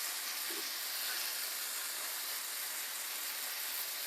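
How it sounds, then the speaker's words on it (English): Vegetarian curry ingredients fry in a pan, a soft, even hiss and sizzle held steadily at moderate volume with no speech over it. "Everything is frying really lovely."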